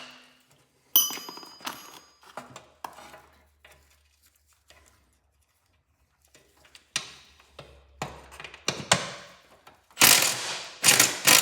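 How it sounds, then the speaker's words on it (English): A ratchet backs a nut off the fender of a Super Cub Cadet tractor. Close, crisp clicking comes in scattered bursts with pauses between them, then a quicker, louder run of ratcheting near the end. "Take the nut off, and usually they'll come right off a little simpler."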